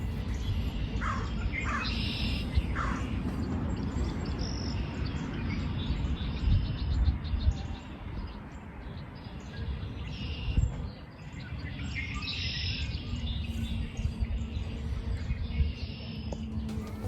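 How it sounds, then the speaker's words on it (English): Many red-winged blackbirds chirp and trill over each other outdoors, a busy chorus of calls repeating throughout, moderately distant, with steady background noise beneath. "how many red-winged blackbirds were just chirping at each other. Just take a listen."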